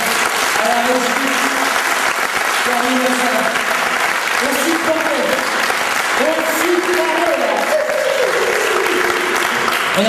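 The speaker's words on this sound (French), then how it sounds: "je pense que déjà on peut applaudir" Audience at a comedy festival in Châtel-Guyon applauding, a loud, dense and steady wash of clapping that lasts throughout, with a voice speaking briefly over it.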